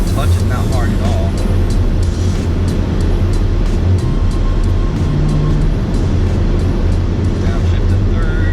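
Engine of a 2016 Chevrolet Camaro SS with manual stick shift, droning loud and steady while driving through a downshift, low rumble constant with a brief dip in revs midway.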